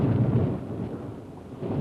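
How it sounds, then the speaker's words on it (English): A short, heavy rumble of thunder rolls low and loud for under two seconds, fading slightly before swelling again, with no voices. "a clap of thunder"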